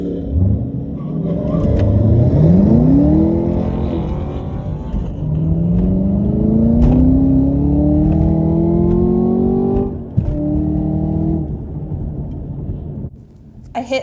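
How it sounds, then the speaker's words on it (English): A Ford Mustang Mach 1 launches hard in first gear on a no-prep drag strip, its engine rumbling loudly and then sweeping upward through long rising revs before easing off near the end. "I hit first gear pretty hard,"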